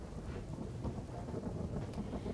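Heavy downpour over a village in the Dwarka area, a dense, steady hiss of rain with a low rumbling undertone, fairly faint and continuous with no voices.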